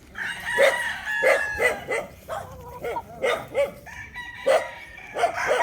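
Roosters crowing repeatedly on a gamefowl farm of about 500 Buston-line fighting cocks in Tanauan City, overlapping calls from several birds near and farther off, with a dog barking among them.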